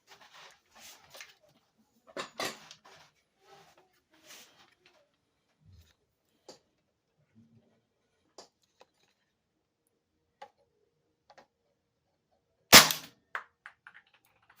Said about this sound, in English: Next up, the MP7 with that long power-up suppressor.